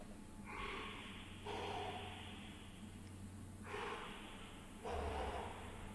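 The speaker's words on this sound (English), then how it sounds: "What is that heavy breathing?" Heavy breathing in the video game There Is No Game, slow loud breaths in and out, four drawn-out hissing gasps spaced evenly over a low background hum.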